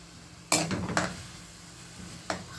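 Three large onions dropped into oil in a pot to fry for Alexandrian koshari, two quick sharp clatters followed by a soft sizzle, then a brief clink near the end, close up against a quiet background.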